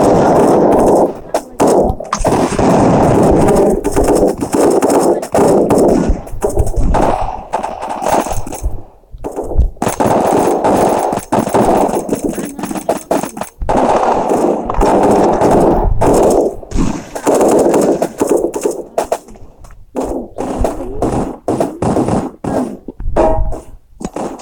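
Loud rattling bursts of machine gun fire in a special forces shooter video game, firing in repeated long volleys with brief gaps, under occasional talk.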